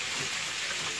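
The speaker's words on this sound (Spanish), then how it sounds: "ya se puso a freír el pollo" Dense, steady sizzling of chicken frying in hot oil, close and continuous with a crackling texture.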